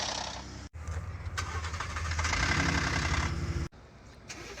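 A Ford Raptor pickup's gasoline engine cranks and fires, rising into a loud, busy, clattering idle up close, then cuts off abruptly into a quieter hum, with no voices.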